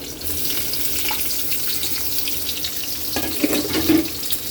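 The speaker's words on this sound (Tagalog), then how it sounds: "Ilagay na natin yung sibuyas at bawang" Onion and garlic are added to hot oil with ginger and sizzle steadily in a pan up close, with brief stirring scrapes toward the end.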